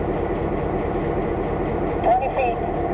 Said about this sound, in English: GP7 will back down with the train to pick up the caboose